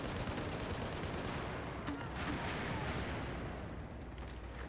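Dense, continuous gunfire and explosive bursts from the XM25 airburst grenade launcher in Battlefield 4, with sustained, loud battle noise filling the whole stretch and no clear pauses.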